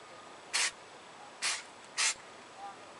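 Three short, close bursts of spray paint hiss as a spearhead is given a fine white coat, with quiet between each puff and a faint fourth spurt at the end.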